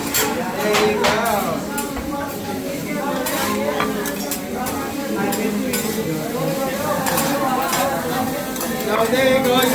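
Rice and vegetables frying on a teppanyaki griddle aboard the MSC World Europa cruise ship, a steady sizzle with frequent metallic spatula scrapes and clinks, loud and close, under ongoing chatter.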